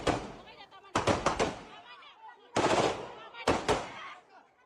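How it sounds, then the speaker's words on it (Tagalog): Philippine Army soldiers fire successive warning shots at a polling precinct in Lanao del Sur, four loud sharp bursts of gunfire spaced about a second apart with echoing tails. "Sunod-sunod na warning shot ang pinaputok ng mga tauhan ng Philippine Army sa polling precinct"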